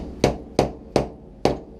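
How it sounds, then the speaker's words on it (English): Four sharp, evenly spaced hammer taps drive a knurl pin into a Sig Sauer P229 pistol frame, each a crisp, close metallic strike with a short ring-off. "Tap knurl pin."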